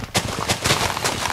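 Cannon fire in the Minecraft Hexxit modpack, a quick run of three or four punchy blasts close together, loud and without talk.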